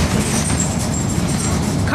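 Steady low rumble inside a moving city bus, a continuous vehicle drone with faint rattles, close and even throughout with no voices.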